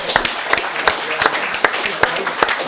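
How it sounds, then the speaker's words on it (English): Applause from a football club's fans forum audience, steady clapping from a crowd filling the room loudly, with a voice talking over the top. "Round of applause for young Ellie."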